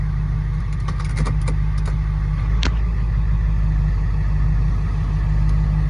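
A car on wide 14-inch wheels creeps forward at low speed, its engine idling in a steady low rumble, with a few faint clicks and a short sharp tick partway through.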